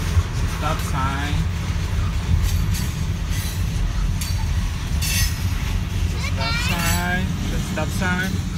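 Train rolling past in Clarke County, Athens, Georgia, a steady loud rumble of rail cars with squealing wheels and metallic clinks, while people talk nearby.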